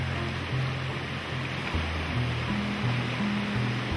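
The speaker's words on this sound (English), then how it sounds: "At last we reached the falls and were able to cool off under its thundering torrent." A waterfall's thundering torrent on a tropical rainforest island: a steady, dense roar of falling water, continuous and fairly close, with low tonal hum layered underneath.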